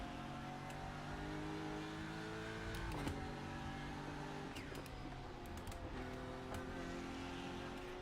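A race car engine in the iRacing sim drones steadily at a distance, pitch climbing and dropping through shifts along a straight, with a few light clicks.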